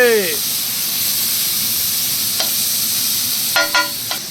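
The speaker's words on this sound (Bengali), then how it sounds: "পেঁয়াজ গুলা ভালো করে ফ্রাই করে লইতে হবে।" Onions fry in a pan for a vegetable fried rice, giving a steady hiss of sizzling. A brief voice opens the sound, and short tonal horn-like blasts cut in near the end.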